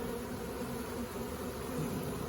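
Honeybee swarm being hived, with bees fanning at the hive entrance; a steady, close, continuous buzzing drone holds evenly throughout with no talk.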